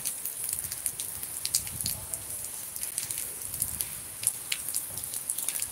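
Rain pattering, a soft continuous patter with scattered sharper drops and faint low rumbles, fairly quiet and without speech.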